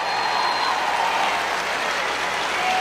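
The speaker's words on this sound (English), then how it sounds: "And the crowd goes wild." Dense, sustained applause from a large crowd at a political rally, steady and loud throughout with no break.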